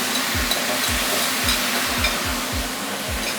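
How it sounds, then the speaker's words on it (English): Steady, loud sizzling of black pepper beef stir fry in a hot pan after sauce is poured in, with rhythmic scraping strokes as the food is stirred about twice a second. "Gotta love the sizzle."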